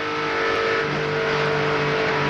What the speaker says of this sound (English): Heard her lift a little bit there, Larry. She got off the gas just a second